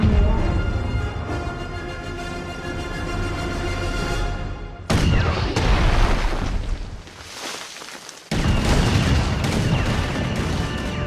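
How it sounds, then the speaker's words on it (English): A massive artillery barrage from Star Wars: The Last Jedi, with a sustained heavy roar and rumble, then booming bursts of fire and explosions, loud and dense throughout. "I want every gun we have to fire on that man."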